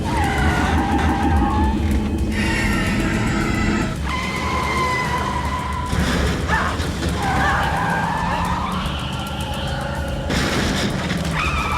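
A car skids and its tires squeal repeatedly as it brakes hard to a stop, loud and close, with engine roar and screeching sweeps throughout and no voices.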